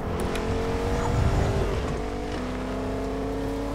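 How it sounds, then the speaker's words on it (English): A car in a video game drives along with a steady engine drone and a shifting pitch, loud and continuous with no talking. "I have the car."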